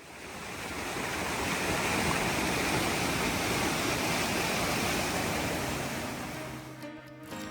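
Garzas Creek running high through a redwood forest after weeks of heavy rain, a loud, steady rushing of water that holds constant throughout and eases slightly near the end.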